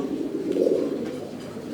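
Young local pigeons coo at a pigeon seller's stall, a soft, continuous low warble close by with no other sounds over it.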